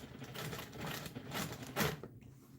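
Sewing machine stitching a custom quilt along a ruler, its needle running in a steady, rapid mechanical patter that surges briefly near the end before cutting off into quiet.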